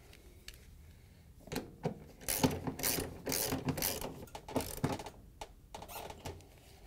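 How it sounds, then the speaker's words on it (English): Socket ratchet tightening a bolt on a Samsung washing machine shock absorber, a run of close, crisp clicking bursts in uneven rhythm that grows busier in the middle. "and tighten it down with our socket."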